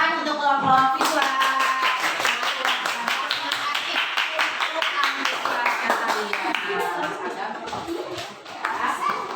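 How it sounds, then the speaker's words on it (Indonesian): Classroom clapping for a student group, a quick, sharp patter of many hands that runs for several seconds, with a teacher speaking and children's chatter and giggles mixed in. "tepuk tangan untuk kelompok visual"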